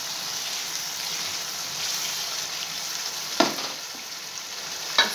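Masala fish frying in a pan, a soft continuous sizzle with two brief scraping knocks of a spoon stirring, close and without speech.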